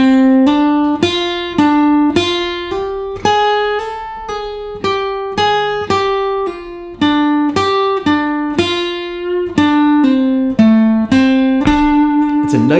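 A guitar plays a minor blues scale lick slowly, with a steady run of plucked single notes joined by hammer-ons and pull-offs, each note ringing clearly before the next, with no talking.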